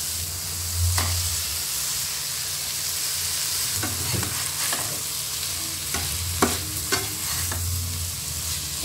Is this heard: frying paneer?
yes